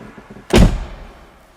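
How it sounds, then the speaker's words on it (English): A single solid thunk of a Brabus car door swinging shut, loud and close, with a brief low resonance fading after the slam. "So let me close the door."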